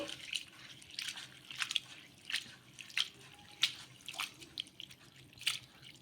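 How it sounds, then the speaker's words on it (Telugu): Irregular splashes and drips of water, fairly quiet and close, repeating every second or so as flattened rice is swished and rinsed. "వీటిని బాగా రెండు మూడు సార్లు అయితే కడిగేసుకోవాలి"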